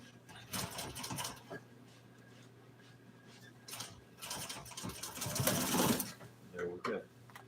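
A sewing machine stitches auto interior upholstery in bursts of rapid mechanical whirring and clacking, stopping and starting as the fabric is repositioned, with some speech and handling noises in between.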